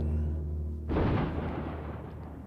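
Heavy naval guns of three cruisers open fire at sea, a single deep booming blast erupting suddenly and rolling on with a long loud rumble over a low droning background.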